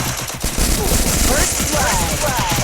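Rapid bursts of Uzi fire from the Free Fire video game crackle loudly in dense, continuous rattling volleys, with a player's voice faintly under the shooting.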